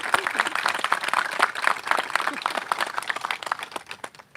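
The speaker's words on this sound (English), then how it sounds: "Can we give all those groups a huge round of applause?" Applause from a crowd at a gun violence prevention awareness rally, individual claps distinct and rapid at first, thinning and fading toward the end, with some voices mixed in.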